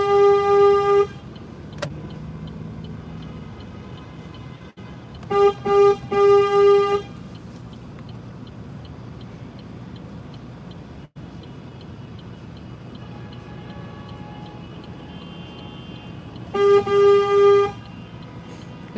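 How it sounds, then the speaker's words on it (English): Car horns honk repeatedly in traffic during a protest drive from Moose Jaw to Regina, several loud sustained blasts coming in bursts over steady road noise, near and overlapping. "all they do is honk at each other because people don't know how to drive"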